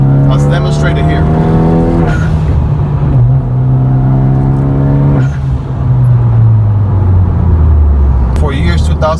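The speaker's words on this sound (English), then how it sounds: "he has a 3-inch turbo back pipe that with the Magnaflow muffler in the back, which definitely adds up to the nice sound of the car" A 2013 Hyundai Genesis Coupe R-Spec with an Injen intake, 3-inch turbo-back pipe and Magnaflow muffler revs hard several times, its exhaust note rising and falling loudly up close with a deep, throaty drone.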